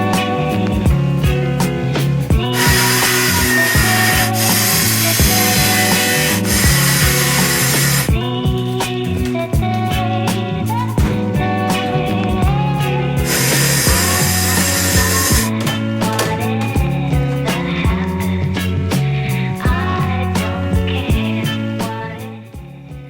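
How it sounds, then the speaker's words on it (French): Power tools drill corner holes and cut large logs for a DIY 80-gallon wooden planter box, a loud, continuous buzzing and grinding with sharper high-pitched bursts of sawing rising and falling throughout, no talk. "s'équiper pour percer les coins, et découper nos grands billes."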